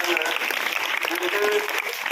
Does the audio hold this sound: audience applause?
yes